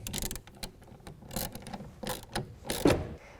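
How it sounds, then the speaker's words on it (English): A ratchet with a 1/2 inch socket tightening a bolt while a tonneau cover is installed, a close series of quick clicking bursts with short pauses between strokes. "use our 1/2 inch socket,"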